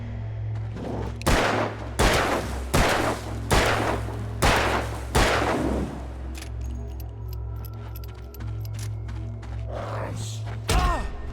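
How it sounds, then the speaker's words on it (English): Gunfire in the video game Alan Wake: a series of about seven sharp, loud shots spaced roughly half a second apart, then scattered softer clicks and a final shot near the end, over a steady low game hum. "Here, take the gun. Shoot a man."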